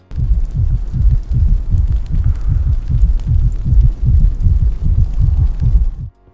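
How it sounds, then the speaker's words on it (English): A heartbeat from frozen dragon eggs in Fortnite thumps steadily and loudly as a low, regular double pulse that repeats throughout, then stops abruptly at the end. "I've actually seen some videos where the eggs appear to have a heartbeat."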